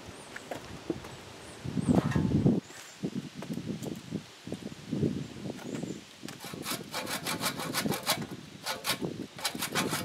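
A handsaw cuts off branch stubs on a wooden walking stick whose bark is being removed, with a low rubbing start followed by a steady run of rapid rasping back-and-forth strokes, close and clear, without talk.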